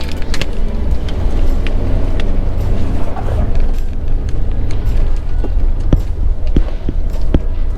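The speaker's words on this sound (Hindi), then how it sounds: "जोर लगा रही गाड़ी।" A car engine strains loudly and steadily on a rough, broken road in Sumatra, Indonesia, as the vehicle skids and gets stuck, with knocks and clatter from the rough surface running through the whole stretch.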